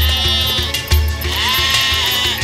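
Sheep in an animated fairy tale bleat in a loud, wavering chorus of overlapping cries over background music, close and continuous.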